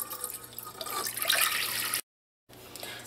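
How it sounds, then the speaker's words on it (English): Water running and splashing into a cooking pot on a kitchen stove, a soft steady pour for about two seconds, then a brief silence and faint room noise. "In a pot, I'm going to add in 3 cups of water."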